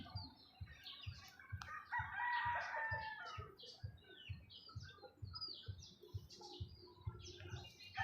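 Chickens cluck and chirp steadily in a coop while a rooster crows, the birds close by, with a low rhythmic thumping running underneath throughout.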